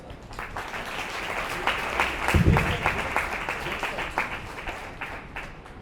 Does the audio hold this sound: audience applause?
yes